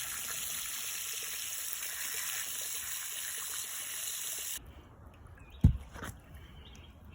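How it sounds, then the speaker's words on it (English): Higher-pressure water from a hose sprays loudly and steadily down a 3-inch sluice during a silver cleanup, then cuts off, leaving faint trickling and a brief sharp knock. "And try heavier water pressure."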